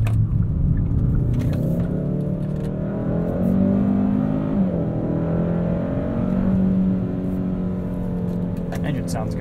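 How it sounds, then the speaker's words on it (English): Hyundai Sonata N Line 2.5T turbocharged engine with a dual-clutch transmission, heard from inside the cabin while driving: a steady low drone that swells and falls with throttle, with faint background talk throughout. "Engine sounds good too."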